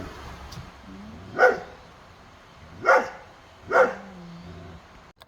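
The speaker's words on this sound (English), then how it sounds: "My dog is barking at the" Dog barking outdoors, three separate loud barks spaced a second or so apart over faint background noise.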